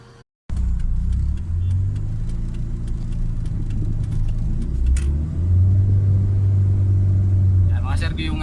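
A two-door Mitsubishi Lancer GSR engine idles with a loud, steady low rumble close by, swelling slightly midway, while someone talks over it.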